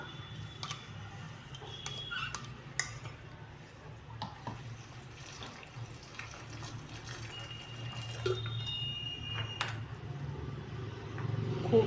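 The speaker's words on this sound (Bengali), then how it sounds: "সোয়াবিনগুলো আমি গরম জলে ভিজাবো।" Hot water poured over soybeans in a bowl to soak, a faint, steady watery wash that swells slightly toward the end.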